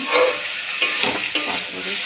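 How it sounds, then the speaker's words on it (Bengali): Food frying in a pan with salt is stirred, producing a continuous sizzle broken by a few sharp scraping strokes of the spoon, close and fairly loud, without speech. "ভালো করে নেড়ে নেব, আবার একটু কষা হয়ে যাবে"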